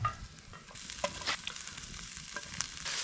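Onions frying in butter in a pan over an outdoor campfire, a soft continuous sizzle with a few sharp pops and spatters, fairly quiet and without talk.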